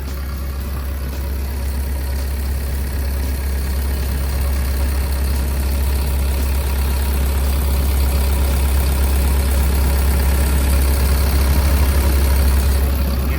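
A Kobelco SK135SR-2 12-ton excavator with a Mitsubishi D04FR diesel engine idles steadily, a continuous low rumble heard up close with no talk.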